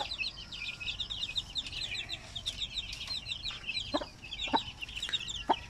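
A flock of breeder hens clucks and chirps steadily nearby, a busy overlapping chatter with a few louder clucks standing out.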